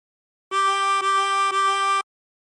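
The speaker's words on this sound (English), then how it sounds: "Blow into 13 3 times." Three identical blown notes on hole 13 of a 24-hole tremolo harmonica, each a bright shimmering reed tone held about half a second, played back to back, close and clean.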